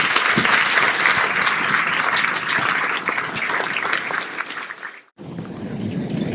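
Loud, sustained audience applause fills a room at an evening event honoring a retiring judge, dropping out briefly near the end before picking up again.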